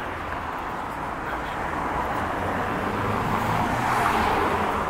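A Toyota 4Runner drives past on a street in Laval, Quebec, its engine and tire noise steady and fairly close, swelling slightly toward the end amid general road traffic.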